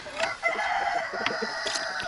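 Chickens cluck and squawk close by in a farmyard enclosure, several birds calling over one another in a busy, continuous chatter with no talking.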